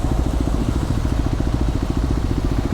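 A KTM 390 motorcycle engine runs steadily on a ride through Bali, its low pulsing throb rhythmic and continuous throughout, loud and close with no voices.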